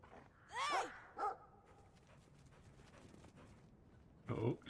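A guard dog in the video game Brothers: A Tale of Two Sons gives two quick barks while chasing, then after a pause a rougher, louder bark, all over faint background ambience.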